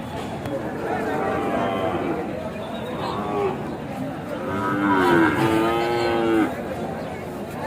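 Cattle lowing among a murmuring crowd at a cattle market, including young Sahiwal bulls, with drawn-out moos rising over the chatter, loudest toward the middle and end.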